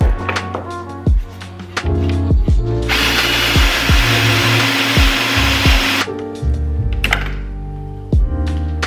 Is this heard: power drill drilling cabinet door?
yes